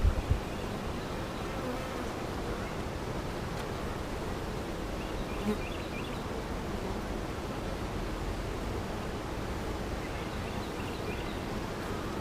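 Honeybees drone in a steady, dense buzz from an open beehive with few bees on the frames, continuous and close for the whole stretch with no voices.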